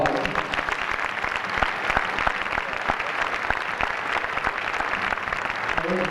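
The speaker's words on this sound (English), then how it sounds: "So I think my parents deserve a huge round of applause" Crowd in a gym clapping for a player's parents on senior night, steady dense applause throughout at close range.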